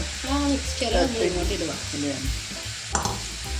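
A tomato, onion and green chilli mixture for thakkali thoran sizzles in a pan as it is stirred with repeated scraping strokes; a voice speaks over the frying.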